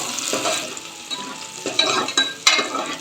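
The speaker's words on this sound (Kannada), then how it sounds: "ಅವನು ಚಂದಾಗ ಫ್ರೈ ಮಾಡಬೇಕು ಎಣ್ಣೆ ಒಳಗೆ" Two or three large-cut green chillies frying in oil after curry leaves, a close, continuous sizzle broken by several sharp stirring scrapes and light clatters of a spoon against the pan.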